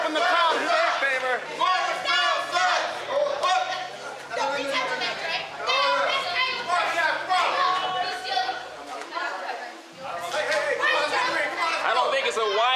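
Loud cheering and chanting from the crowd at a WWA4 intergender championship wrestling match, Kavron Kanyon versus Kayla Lynn, sustained throughout with many voices yelling together and only a brief dip near the end.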